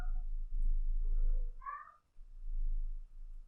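A cat gives a couple of close meows, a lower drawn-out cry followed by a brighter, higher mew, over a low rumbling background.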